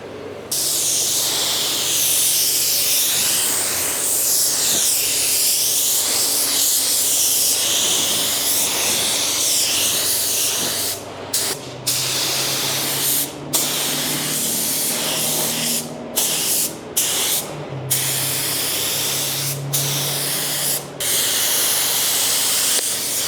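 An InoKraft Drizzle Pro paint spray gun laying down a base or pearl coat, giving a loud, steady hiss that runs almost continuously, broken by a few short pauses in the second half.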